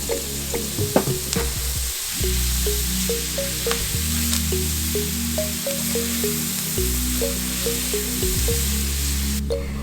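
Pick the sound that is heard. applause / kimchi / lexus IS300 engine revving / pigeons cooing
kimchi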